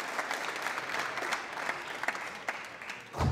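A crowd at a squash match at the Windy City Open applauds a rally, with sustained clapping throughout and a louder swell of applause at the very end.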